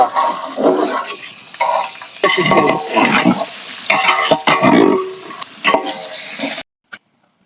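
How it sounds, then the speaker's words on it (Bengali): Vegetables with carrots, peas and cauliflower sizzle in hot oil while they are stirred. The crackling and scraping come close and in uneven bursts, then the sound cuts off near the end. "এখন সবজি ভাজার জন্য তেল দিয়ে দিব"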